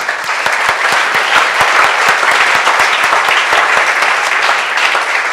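An audience applauds at an entrepreneurship award ceremony, a loud, steady burst of clapping from a crowd that carries on through the whole stretch.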